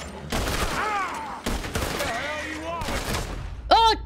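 Gunfire in Red Dead Redemption 2 while riding on a wagon, several loud bursts of shots at irregular intervals over game background sound, with a short sharp cry near the end.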